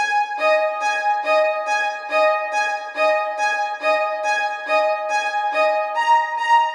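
Two violins panned hard left and right play the same repeating rhythmic figure in unison, a steady pattern of short bowed notes recurring about every half second, with a pitch change near the end; no talking.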